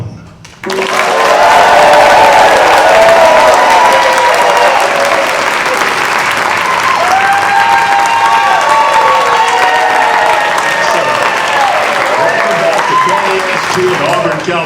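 A studio audience at a live broadcast breaks into loud, sustained applause with cheering and shouts, the clapping swelling quickly and holding strong for over ten seconds, with voices mixed in.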